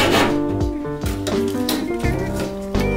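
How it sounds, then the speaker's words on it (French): A wooden plank for a canoe hull is hand-sawn along a guide edge, producing loud, close rhythmic rasping strokes roughly every half second with no talking. "je scie la planche en suivant le bord du machin là"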